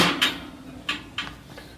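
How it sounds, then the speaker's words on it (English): Metal grates set into a Recteq RT-B380 Bullseye pellet grill, making three or four quick, light metallic clanks and scrapes at close range. "And just put in the grates."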